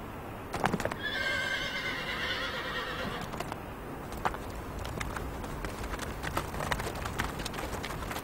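Horses on a vast Tibetan natural grassland pasture, with a clear whinny rising over a steady background and scattered clip-clop hoof steps continuing through the rest.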